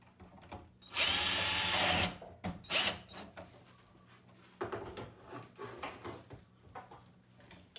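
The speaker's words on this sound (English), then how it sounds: "I'm going to have my drill set to low." A power drill on its low setting drives screws into a door latch in a short burst of whirring, followed by lighter tool clicks and handling noises nearby.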